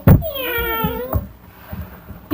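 A child imitates a cat, giving a drawn-out, wavering meow up close that trails into quieter vocal sounds and a few soft thumps.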